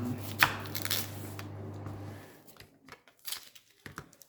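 A dull kitchen knife chops through an onion on a cutting board at home, giving a quick run of sharp close taps followed by quieter, irregular cuts and scraping.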